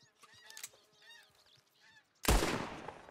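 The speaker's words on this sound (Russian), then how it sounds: "мне вот эти гуси летающие наверху маленько бесит." Geese honk overhead in Red Dead Redemption 2, with several clear calls in quick succession followed by a sudden loud burst that fades out.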